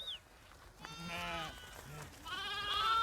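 Sheep and goats in a flock bleat several times close by, with loud, wavering cries overlapping from about a second in and a sharper bleat near the end over a low background rumble.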